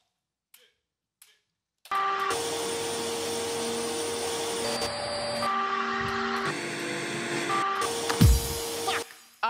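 Several household vacuum cleaners switched on in turns to sound musical notes, a steady loud motor whine that shifts pitch in stepped blocks as different machines cut in and out, with a few faint clicks before it starts.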